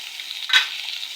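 Curry with fish frying in a pan, a soft steady sizzle with one brief scrape of stirring in the middle, close and without talk.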